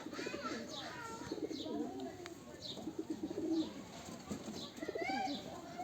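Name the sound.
pigeons cooing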